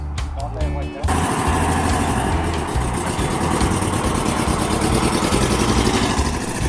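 Air-cooled VW Beetle engine idling in a parking lot with freshly replaced heads, a loud, steady, throbbing rumble that starts abruptly after a few short bursts and continues under people talking.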